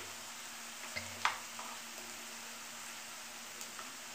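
Onions deep frying in a pan for a simple onion gojju give off a steady, soft broadband sizzle, with a couple of faint stirring clicks and no voices.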